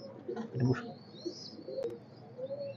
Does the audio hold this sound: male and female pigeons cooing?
yes